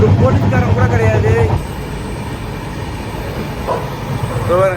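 A moving passenger train, heard as a continuous rumbling rattle of the carriage with a faint high whine, present throughout at close range, under someone talking during the opening seconds.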